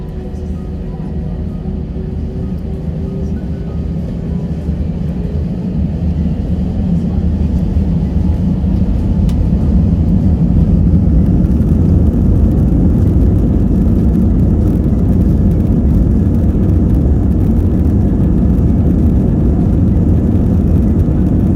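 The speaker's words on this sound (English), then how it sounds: "After a couple minutes of waiting in queue, we were ready for takeoff." JetBlue Airbus A320 airliner on its takeoff roll, a loud steady low-frequency engine roar that builds slightly and holds throughout, heard from inside the cabin with a faint background murmur.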